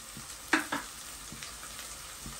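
Onion cooks in a pan with garlic and cloves: a faint, low sizzle with a couple of sharp utensil clinks near the start and soft taps afterward.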